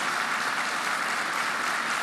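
Dense, continuous applause from a large group of people at a lawyers' event at Beştepe, the presidential complex in Turkey, fills the clip with an even, loud roar of clapping and no voices on top.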